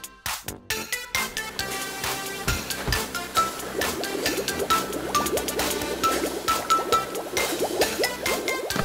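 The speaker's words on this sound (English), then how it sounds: "Now the soap is filled to the top." Soap liquid fills a container to the top in a 3D cartoon, with gurgling, bubbling pours and squishy drips, set over light cartoon music.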